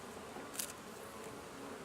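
Honey bees buzz faintly inside an open double deep hive set up for winter, a soft steady hum with one brief louder buzz near a bee passing close.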